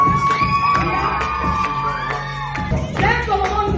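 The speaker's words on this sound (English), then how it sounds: "We want to hear you cheer." A crowd of young people cheers and shouts at a Samoan youth break-up party in Canberra, a loud, dense burst of whoops and excited yelling that carries on throughout.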